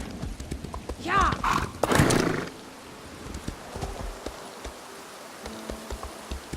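A horse in the video game ESO (Elder Scrolls Online) gives a short whinny and snort with a few hoof clops near the start, then fades to quiet background ambience with faint ticking.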